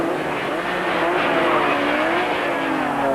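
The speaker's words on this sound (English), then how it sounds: "Oh, those engines are having a hard time, and those tires." Group N production race cars at a 1993 East London circuit event, engines straining with rising and falling whines while tires squeal continuously, loud and close with no talk over it.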